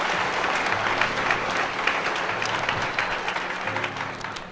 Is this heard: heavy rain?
no